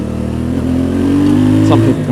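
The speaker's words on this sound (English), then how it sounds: "Just annoy everyone with my loud exhaust" A motorcycle with a loud stock exhaust idles and revs in a steady, deep, continuous rumble, close and dominant throughout.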